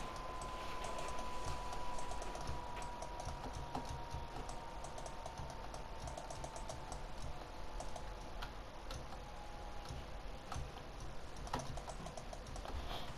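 Fast, steady clicking of a computer keyboard during a Fortnite match, heard close and fairly quiet over a constant background hum, with no talk.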